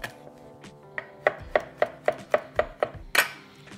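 Knife chopping garlic on a cutting board, a run of about a dozen sharp, evenly spaced close knocks that speed up slightly and end in one louder strike, with no talking.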